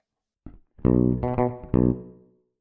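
A fretless bass with its tone knob opened plays three sustained notes after a brief plucked note, brighter and more present, close and alone.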